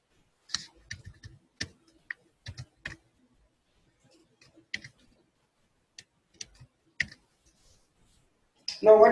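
Sharp, isolated computer mouse clicks land one at a time or in quick pairs against near silence while a button is clicked during software testing, and a voice begins speaking at the very end.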